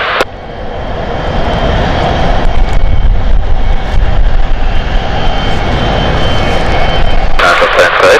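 Steady, loud broadband aircraft engine roar at London City Airport on a stormy night, holding throughout with a brief shift near the end; faint speech is mixed in.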